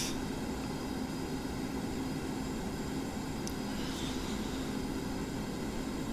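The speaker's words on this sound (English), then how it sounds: "I'm going to give it a little bit more throttle, closer to" An F/A-18C Hornet jet engine in the DCS flight simulator is throttled up, producing a continuous, even, full-band engine hum with no pauses and no voices.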